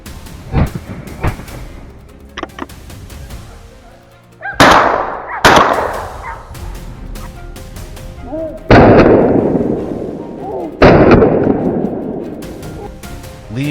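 Rifle shots in a wild boar hunt in tall grass, several loud sharp reports that ring out and decay over the outdoor background, separated by short quiet gaps.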